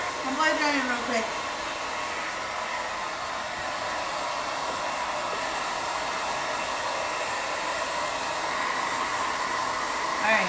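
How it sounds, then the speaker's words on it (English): Hair dryer blowing steadily on a wet towel, a loud continuous whooshing roar close by that holds for about ten seconds, with a brief voice at the very start. "I'm blow drying real quick."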